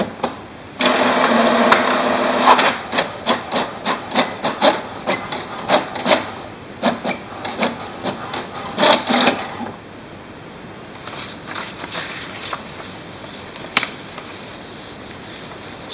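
An HP DeskJet 2720 inkjet printer runs off a status report, giving a close, steady run of rhythmic mechanical clicks and whirring feed pulses for about nine seconds, then a quieter stretch with a few sparse clicks and one sharp tap.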